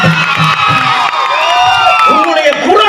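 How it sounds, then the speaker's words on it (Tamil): A hall audience at a satirical folk stage show by a Pudukai Boopalan art troupe roars and cheers, a dense, loud wash of voices with shouts and whoops rising and falling throughout. "உன் பாடலை கேட்டு இந்த அரங்கமே கைத்தட்டி சிரிக்கிறது."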